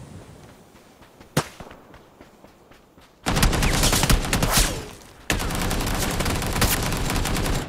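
Gunfire in the battle royale game PUBG: a single sharp shot, then two long stretches of loud, dense automatic fire separated by a brief pause.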